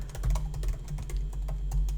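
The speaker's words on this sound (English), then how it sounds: "I'll type that in the chat here" Computer keyboard typing: a steady run of quick, close clicking keystrokes with a light uneven rhythm, alone without any talk.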